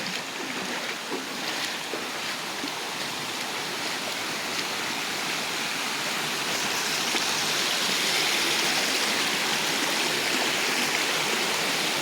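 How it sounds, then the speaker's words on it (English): Creek water flows continuously at Tinkers Creek in Bedford, Ohio, where a smaller creek joins. It makes a close, steady rushing and burbling that swells slightly louder toward the end, with no voices. "Oh, we got another little creek coming in."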